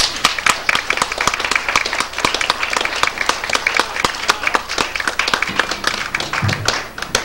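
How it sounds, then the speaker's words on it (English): An audience applauds a stage performer, with dense, lively clapping close by, loud and continuous, with sharp individual claps standing out before it thins slightly near the end. "if you'll give the professor a little applause"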